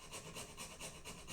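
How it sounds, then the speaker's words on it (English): Hand files and a sanding block rasp against wooden pocket knife parts in a steady back-and-forth rhythm, each stroke a soft, close scraping swell in a quiet room. "I can bring them right down to it with the files and sanding block until they're exactly the right size"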